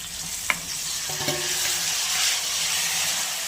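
Onions and tomatoes sautéing in a pan for tomato rice, a steady close sizzle with a few sharp spoon-scrape clinks near the start and continuous stirring throughout.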